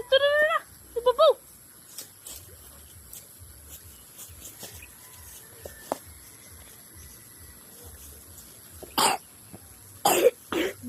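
Several short, harsh coughs burst out near the end of the clip, with a few fainter throat sounds earlier, set against quiet outdoor background noise and brief bird-like chirps near the start.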